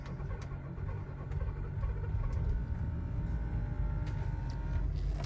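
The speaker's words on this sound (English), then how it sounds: "Oh, we're idling. A little bit lumpy." A steady, close rumble from an Audi Q7 engine idling slightly unevenly after repairs to its fuel pressure regulator, heard alone without talk.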